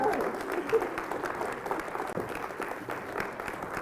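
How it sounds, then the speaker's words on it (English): An audience at a charity magic show applauds, a steady, moderately distant wash of clapping with some voices faintly mixed in. "please accept my thanks and all of this applause"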